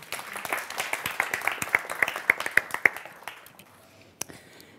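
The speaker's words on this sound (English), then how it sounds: "So please give her a warm applause." Audience clapping for a speaker at a life science lunch lecture: a brief, moderate round of applause with distinct claps that thins out after about three seconds, leaving a few scattered claps.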